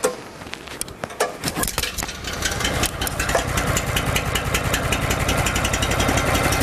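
A Honda engine on a Whiteman walk-behind power trowel starts after a pull and settles into a steady, loud mechanical running drone close by, with rapid knocking pulses throughout.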